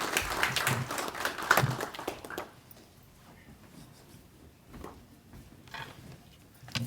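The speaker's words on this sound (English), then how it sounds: "Give everyone one last round of applause." A small group applauds at an honor society induction ceremony for a couple of seconds, then the clapping thins out into scattered claps and quiet room noise.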